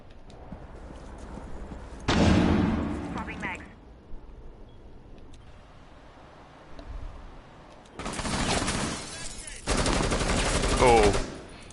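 Gunfire in a Rainbow Six Siege match, three loud bursts of rapid shots separated by quieter stretches of room tone, the later two bursts back to back and harsher, with faint commentary voices between.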